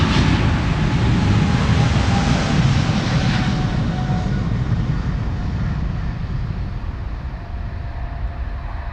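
A Boeing 777-300, registration PH-BVD, about 15 years old and in standard livery, departs Amsterdam Schiphol with a loud, continuous jet roar that gradually eases and recedes into the distance.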